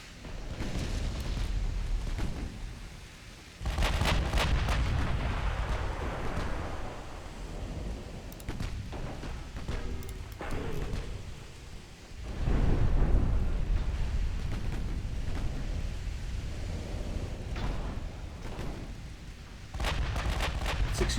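Heavy warship guns boom repeatedly in a naval battle in Ultimate Admiral Dreadnoughts, with deep rumbling blasts that swell at intervals over a continuous low roar of battle, loud and close.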